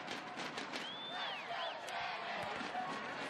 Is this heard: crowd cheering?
yes